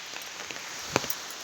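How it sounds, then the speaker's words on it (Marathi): Rain falls in Goa during the monsoon, a soft steady patter with scattered drops landing close by, heard alone. "खूप पाऊस पडता"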